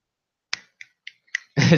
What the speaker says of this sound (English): We give you finger snaps, stomps, and hand claps.